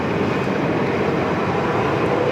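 Airliner taking off at Sydney Airport, a loud, steady broadband jet engine roar that holds constant and close throughout, with no voices over it.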